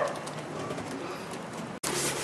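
Pigeons in a breeder loft, soft repeated cooing and bird calls close by, with a brief cut near the end.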